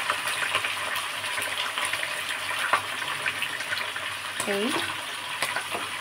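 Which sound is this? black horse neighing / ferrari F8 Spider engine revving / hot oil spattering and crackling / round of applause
hot oil spattering and crackling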